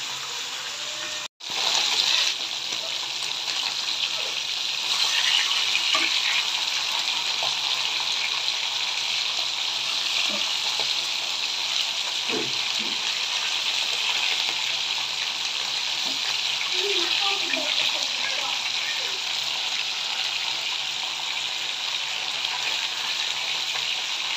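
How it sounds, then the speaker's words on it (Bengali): Lightly fried hilsa fish crackling in hot oil in a pan, a steady broad sizzle that holds at an even level throughout, close by, with a few faint clinks and bumps underneath. "একদম হালকা করে ভেজে নিয়েছি"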